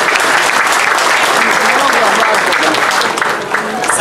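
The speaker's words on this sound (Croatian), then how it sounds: "Pozdravimo ih još jednim aplauzom." An audience at a concert of gusle players and folk singers claps, loud sustained applause filling the hall from start to end and easing slightly near the close.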